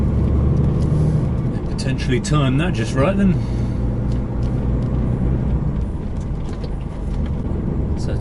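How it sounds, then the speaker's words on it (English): A line of trucks rolls into a UK-to-EU border check-in, producing a constant low engine rumble, with a brief air-brake-like hiss partway through. A person talks over it. "Oh, that's a lot of trucks coming in."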